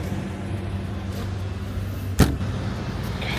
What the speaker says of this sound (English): As the trucks just come in and out.